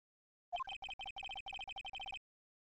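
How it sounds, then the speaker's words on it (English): Phone ringtone melody from the video game Phoenix Wright: Ace Attorney, a bright electronic tune of about a dozen quick beeping notes in a bouncy rhythm, clear and moderately loud, with no voices over it. "I know that song your phone plays when it rings."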